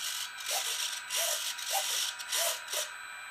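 Aileron servos on a Sport Cub S RC plane buzz back and forth during a Spektrum DX-6 radio system check: about five quick, whirring gear-drive bursts in a rapid rhythm, close and clear with no talk.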